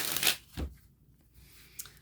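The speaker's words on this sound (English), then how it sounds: "Let me just shuffle this." A deck of tarot cards being shuffled, with two or three quick riffling bursts up close, then near silence and one faint flick.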